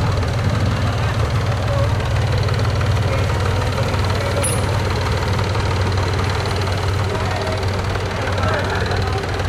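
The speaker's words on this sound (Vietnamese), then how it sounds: "Quá trời cái động cơ xịn nè." A barge engine runs steadily near a saltwater-prevention sluice gate, a loud, continuous low rumble with knocking texture throughout, with voices talking over it.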